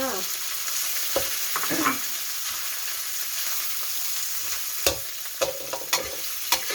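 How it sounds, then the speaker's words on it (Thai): Shrimp stir-frying in curry paste in a hot pan, a steady close sizzle throughout, with occasional sharp scrapes and taps of the spatula against the pan. "ใส่กุ้งลงไปผัดเลยค่ะ"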